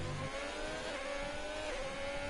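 Race cars in a racing video game at the USA Grand Prix, engines revving with a steady high whine as they drive past, continuous and moderately loud throughout.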